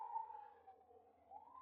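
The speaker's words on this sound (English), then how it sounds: "I don't know if you can hear the sirens" A faint, distant emergency vehicle siren wails in a steady, slowly wavering tone that rises again near the end, heard alone in an otherwise quiet scene.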